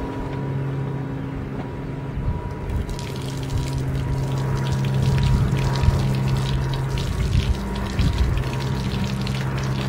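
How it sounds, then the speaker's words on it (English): Water sprays and pours steadily at a vehicle hand washing station, rinsing soap off a vehicle; a continuous rushing wash over a low pump-like hum, growing slightly louder and busier midway, with no talk. "I think we're all soaped up and ready to wash this off"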